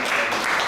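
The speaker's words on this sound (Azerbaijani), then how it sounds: "Alqışlar." Applause from the audience at a National Ideals Day awards ceremony in Azerbaijan, a steady dense wash of clapping filling the whole brief moment with no voices over it.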